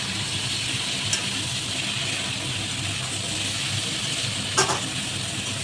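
Pointed gourd with spices sautéing in a pan gives a steady, even sizzle and hiss throughout, with a couple of faint scrapes of stirring near the end.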